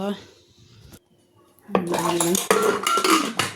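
A metal lid clanks onto a pot of potatoes in a home kitchen, followed by a run of close, bright clattering and scraping of cookware, with a voice briefly heard at the start.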